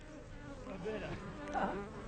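Bees swarm near a pot of honey, their buzzing a close, steady drone that swells briefly near the end of the two-second stretch, with no voices over it.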